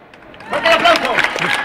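Applause starts quietly, then swells into loud crowd clapping and cheering at the Bilbao fiestas, with excited voices mixed through it.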